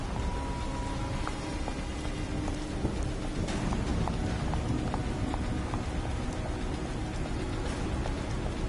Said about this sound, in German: Es regnet auch noch